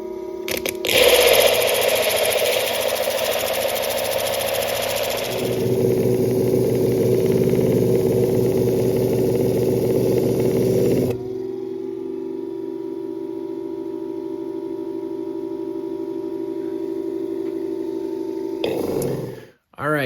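A stone polishing machine works an agate with a steady loud droning whir that changes pitch partway through, then runs lower and quieter before cutting off near the end.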